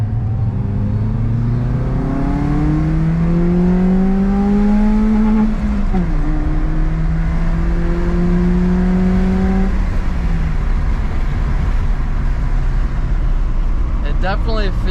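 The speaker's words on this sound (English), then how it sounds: "We'll do a second gear pull." BMW E36 318i with a cold air intake pulls hard in second gear, the engine note climbing steadily for several seconds, dipping at a brief lift, then rising again before easing off; continuous loud drone of road and wind inside the car.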